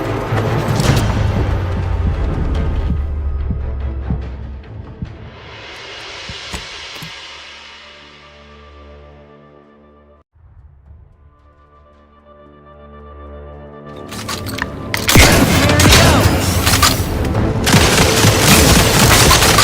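In the Outer Worlds 2 video game, a grenade goes off with a heavy booming blast and a long rumbling decay, followed by a loud burst of gunfire and combat noise.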